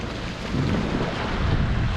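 Sailboat motoring under engine at sea between Madeira and Gran Canaria in calm air: a steady low rumble runs throughout beneath heavy buffeting wind noise on the microphone, with no voices.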